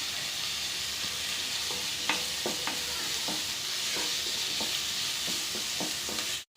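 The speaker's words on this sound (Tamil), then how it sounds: "தக்காளி நல்லா வதங்குற வரைக்கும் நல்லா வதக்கி விட்டுக்கோங்க." Tomatoes and cashews sizzle while being sautéed in a pan for kadai paneer, a steady frying hiss broken by repeated scrapes and clacks of a stirring spoon, ending abruptly.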